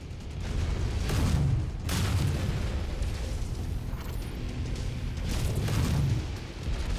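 Game explosions of destroyed targets in MechWarrior 5, heavy low booms swelling at the start and again near the end over a continuous rumbling battle din, fairly loud and close.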